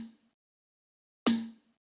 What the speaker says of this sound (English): This is the resampled snare with the noise layer and the fundamental layer all processed.